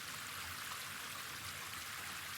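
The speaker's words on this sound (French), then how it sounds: "un petit cours d'eau qui traverse la montagne" A small mountain stream flows steadily, a soft continuous rush of water with no voices, even and unbroken throughout.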